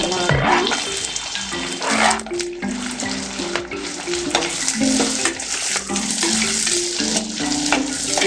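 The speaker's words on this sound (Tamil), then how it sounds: "வெங்காயத்தை நல்லா வதக்கணும்." Onions sautéing in a pan for a spicy ladies finger gravy, a crackling sizzle broken by repeated stirring and scraping of a spoon against the pan, close up with no talking.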